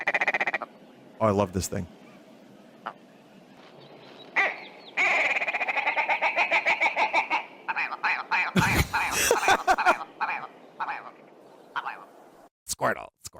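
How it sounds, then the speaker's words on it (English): A willow ptarmigan's call played from a recording: a run of rapid, rattling, croaking bursts with gaps between them, fairly loud and close, with a person talking briefly in between. "It's the willow ptarmigan."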